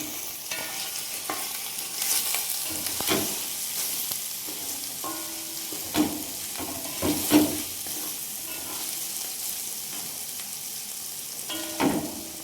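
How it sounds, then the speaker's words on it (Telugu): Okra being fried in a pan for a home-cooked side dish, with a steady sizzle and repeated clinks and scrapes of stirring running through the whole stretch, with no talking. "బిర్యానీ తినని వాళ్ళకి బెండకాయ ఫ్రై తయారు చేస్తున్నాడు మనోడు."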